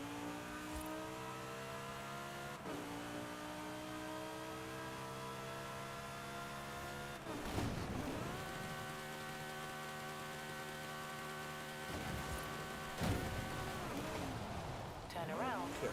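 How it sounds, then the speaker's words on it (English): Lamborghini Huracan engine in the Forza Horizon 5 video game, droning steadily, then revving up through a few gear changes with pitch sweeps, heard fairly quietly at a distance. "The Lamborghini Huracan."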